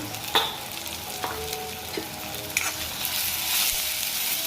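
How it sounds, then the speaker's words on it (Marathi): Turmeric and garam masala spice paste frying and being stirred in a pan over a low flame for a village-style aleem vegetable curry, a steady close sizzle with several clear scrapes of a spoon against the pan. "आता हा मसाला चांगला परतून घेऊ"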